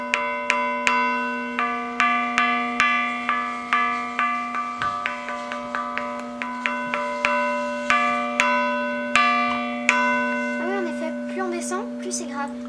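A church carillon bell named Marie Alphonsine, 144 years old, is struck repeatedly in an uneven rhythm, each clear ringing strike decaying over a sustained hum, with faster strikes in the middle.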